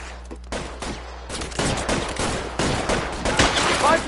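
Gunfire crackles in the L.A. Noire video game, a rapid fusillade of sharp shots in clustered bursts, loud and close, over a low background rumble.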